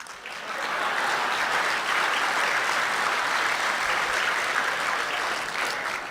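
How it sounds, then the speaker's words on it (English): An audience at a Lincoln Day political event in Spokane County breaks into sustained applause, a thick, even roar of many hands clapping that holds steady for several seconds with no speech over it. "You can clap."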